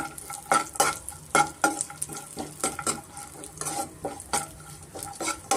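Raisins and dry fruits for a wheat-flour laddu fry in a pan, with rhythmic spatula scrapes and clinks against metal over a soft sizzle, close and fairly quiet.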